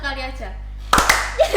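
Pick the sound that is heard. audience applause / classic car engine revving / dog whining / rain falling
audience applause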